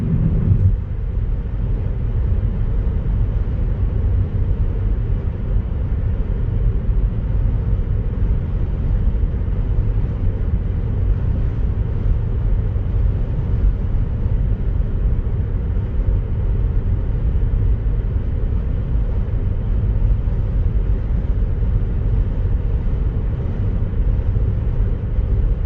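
A Tesla driving hands-free on Full Self-Driving over a bumpy road gives a steady low rumble of tyres and cabin noise, with faint thumps from uneven pavement throughout and no talking.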